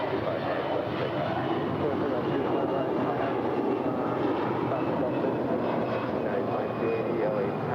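An airliner takes off from runway 25 at LAX, its engines a steady broad roar at moderate distance throughout, while a controller's radio voice talks over it.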